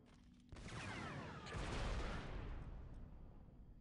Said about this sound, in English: Yeah, the artillery.